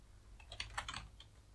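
Quiet typing on a computer keyboard while writing a Microsoft Teams message: a short run of light, close key clicks in an irregular rhythm, alone, with no voices.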